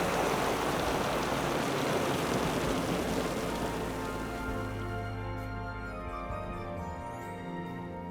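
Steady rain falling at midnight, a dense, even hiss that fills the whole stretch, easing slightly toward the end as faint tonal music rises underneath.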